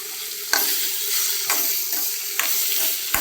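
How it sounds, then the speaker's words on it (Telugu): Mint and masala fry in a pan for bagara rice, a steady close sizzle broken by sharp stirring scrapes roughly every second. "ఫ్రై అవుతున్నాయండి"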